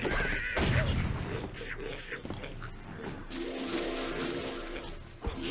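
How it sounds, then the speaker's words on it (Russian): Hearts dropping onto pigs in Angry Birds, giving soft crashes and thuds along with game squeals, over quiet background music. "На свиней просто падают сердечки, уничтожая их постепенно."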